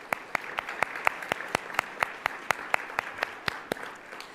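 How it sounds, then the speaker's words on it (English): An audience applauds steadily, a dense patter of many hands with sharper individual claps popping out at a regular pulse, fairly close, with no talking. "So let's give all of them a round of applause."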